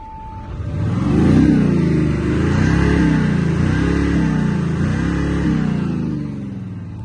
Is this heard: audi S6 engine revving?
yes